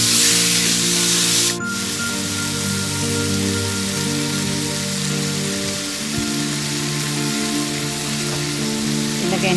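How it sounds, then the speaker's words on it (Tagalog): Shrimp sautéing in a pan for Filipino sautéed bottle gourd: a steady, loud sizzle and spatter continues throughout, with a brief stir or clatter near the start. "Lutuin lang natin ng 30 seconds itong hipon natin"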